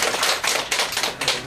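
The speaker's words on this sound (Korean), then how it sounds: "박수 치지 않으시려면 치지 마시고 치시려면 화끈하게" An audience at a lecture on digital art claps in quick, crisp bursts, a brief burst of applause that is close and fairly loud, with no talking.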